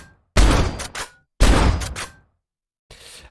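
Two loud shotgun blasts from Doom land close together, each one a sharp boom with a mechanical rattle trailing behind it. A softer, shorter burst follows a moment later.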